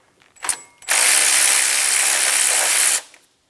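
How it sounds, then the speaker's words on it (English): Ratchet with a 10 mm socket clicking steadily as it removes the power steering line bracket bolt on a 2000-2006 Toyota Tundra 4.7L V8, a close, loud continuous buzz of pawl clicks lasting about two seconds after a brief tap. "Using a 10 millimeter socket, remove the bolt for the power steering line bracket."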